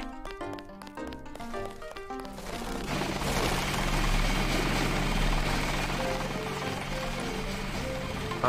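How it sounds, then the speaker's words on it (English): In Deus Ex, the 2000 Ion Storm game, a helicopter's steady rotor drone swells in and hums continuously at moderate volume after a short stretch of percussive game music. "There's an helicopter."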